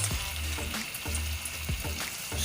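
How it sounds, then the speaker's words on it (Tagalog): Bean sprout spring rolls sizzle in hot oil, a steady close crackle with repeated soft low bumps as the rolls shift, no talk. "So, careful lang, baka matalsikan kayo nung mainit na mantika."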